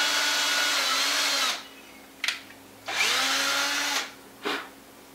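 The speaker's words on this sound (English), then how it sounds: "take a handheld drill and get a starter hole as close to the center as possible" A handheld power drill bores a starter hole in two long whirring bursts, each followed by a short spin-up blip, loud and close with pauses between and no speech.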